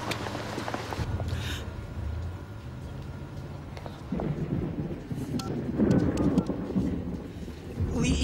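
Steady rain with low rumbling thunder rolling through, a dense wash of noise with a few swells in loudness.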